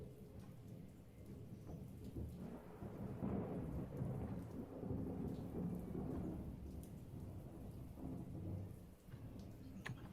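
Thunderstorm ambience plays as a tabletop game's background effect, with steady rain pattering on surfaces and low rolling thunder swelling midway, heard alone at a soft, distant level.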